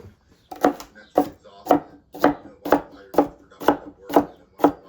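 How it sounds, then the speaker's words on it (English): Knife dicing ingredients for tuna salad on a cutting board, a steady series of about eight evenly spaced, crisp chopping strikes, close and clear with no talk over them. "back and forth, back and forth. Get these all diced up real nice."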